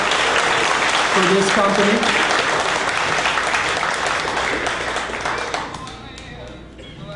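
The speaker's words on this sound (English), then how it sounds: "Can we get a hand of applause for another successful year" Audience applause at a company's annual celebration event, a dense, loud wash of many hands clapping that fades gradually toward the end, with a voice speaking briefly over it.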